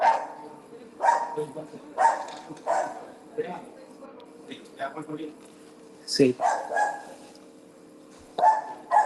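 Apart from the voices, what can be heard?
dog barking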